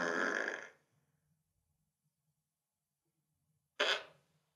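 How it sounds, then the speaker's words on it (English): Fart machine playing flatulence sounds: a long loud raspy blast, then near-silence with low rumble, and a second shorter burst near the end. "A fart machine."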